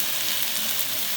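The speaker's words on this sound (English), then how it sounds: "Sorry if you can't hear me because of the sizzling." Chicken pieces, breasts among them, fry in a pan with a loud, steady, hissing sizzle that fills the whole moment close up, with no voices over it.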